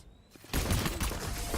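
Gunshots in Valorant break in suddenly after a quiet moment: a loud, close burst of rapid fire that carries on to the end.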